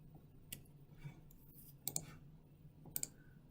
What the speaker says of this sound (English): all I'm doing is clicking, moving the little line bar to it